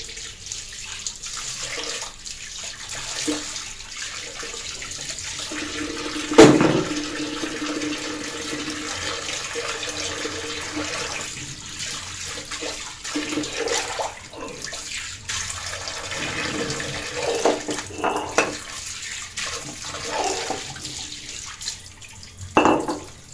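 Water splashing and trickling over a stone grinding stone as it is washed, intermittent pouring and swishing with a sharp knock near the middle, fairly close and moderate in level.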